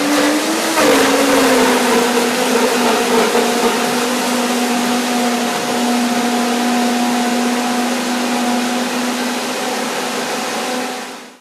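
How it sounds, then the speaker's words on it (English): A blender grinds mango with no liquid added for a mulberry banana mango cake, a loud continuous motor whine that strains briefly near the start, then holds a steady pitch until it cuts off at the end. "didn't put any liquid in, so the blender had a lot of work to do"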